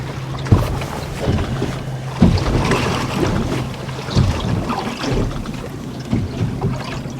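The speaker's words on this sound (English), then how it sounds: "There's a little boat coming in behind us." A small boat motor rumbles on open sea near the Nab as it approaches from behind, amid wind buffeting the microphone, with low thumps of waves slapping the hull.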